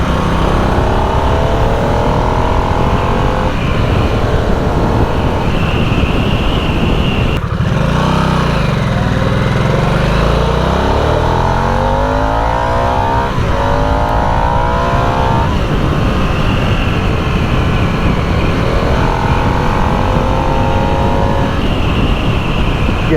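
A Harley-Davidson Nightster motorcycle is ridden fast on brand-new tyres, its engine roaring loudly and continuously with rising and falling revs, all under heavy wind rush.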